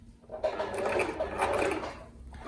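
A sewing machine stitches lace onto a palazzo, running in a steady, close mechanical whir for about two seconds before slowing to a stop.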